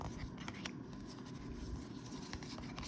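Tarot cards being shuffled, quiet repeated crisp rustling and slides of cards close by, faint and continuous with small clicks.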